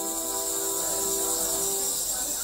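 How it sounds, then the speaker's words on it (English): Crickets chirp in a steady, dense chorus at a Beijing pet market where fighting crickets are sold, a bright sustained trilling with layered tones, close and fairly loud, no voices. "But many Chinese are looking for a special kind of cricket, one that can win a fight."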